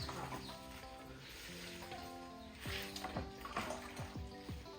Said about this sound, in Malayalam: അപ്പോൾ ഞാൻ അതിനൊക്കെ ഒന്ന് വെള്ളം ഒഴിക്കട്ടെ